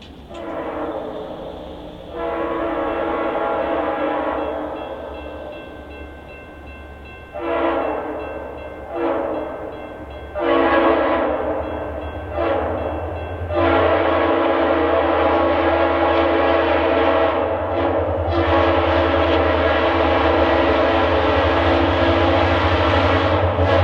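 A Kansas City Southern freight local, the Rankin Turn, rolls east of Brandon, Mississippi, sounding loud repeated blasts of its air horn in a long-short pattern over a deep, steady engine rumble as it passes close by.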